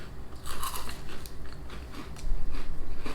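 Crunchy bites into a British chocolate wafer bar coated in dark chocolate, with several close, crisp cracks and chewing over about three seconds and no talking.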